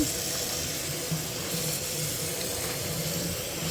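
Water runs steadily from a kitchen tap into a sink while collard greens are washed, a constant close hiss and splash with no voices.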